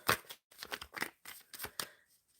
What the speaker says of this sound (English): shuffling for Lauren.